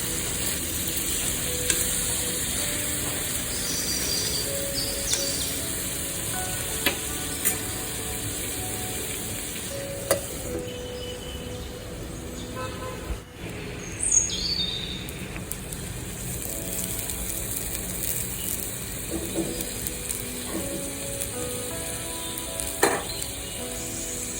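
Tomatoes and tamarind frying in a pan for a roti-style tomato chutney, with a steady low sizzle throughout and occasional soft spatula clicks and stirring scrapes, close and unbroken by talk.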